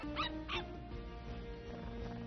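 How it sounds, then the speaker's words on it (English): A dog in a film soundtrack gives two quick yips or barks near the start, followed by a quieter whimpering tail, all over a faint background. "Another dog."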